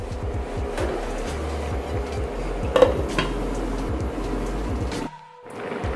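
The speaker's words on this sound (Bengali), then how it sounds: "এখন আমি এটাকে আবার ঢাকা দিয়ে দেব মিনিট দুয়েকের জন্য" A lid goes onto a pot of simmering jute leaf curry with a metallic clink amid a steady cooking rumble, followed by a brief quiet drop and the rumble returning.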